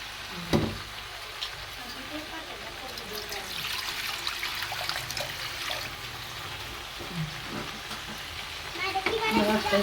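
Water splashes and trickles into a hot pan of rui fish curry with eggplant and beans, hissing and sizzling steadily at moderate volume while people talk over it.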